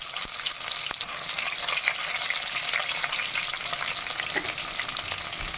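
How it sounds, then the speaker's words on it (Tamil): Chopped shallots sauté in hot oil in a pan for a tamarind-style fish curry with sundakkai, giving a steady, close, dense sizzle with faint stirring scrapes and no voices. "சின்ன வெங்காயம் நல்லா பொன்னீரமாக வதங்கி வரட்டும்"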